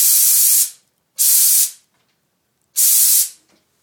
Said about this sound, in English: I'm going to spray 2 milliliters on this one.